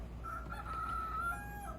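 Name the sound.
rooster crowing in a video game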